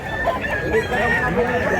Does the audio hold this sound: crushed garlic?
no